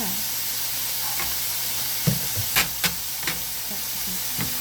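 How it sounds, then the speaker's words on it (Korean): Garlic and soy sauce stir-frying in a pan for Korean japchae: a steady low sizzle and hiss with a few sharp knocks and scrapes of a utensil against the pan. "마늘과 간장, 살짝 이렇게 좀 볶아주다가"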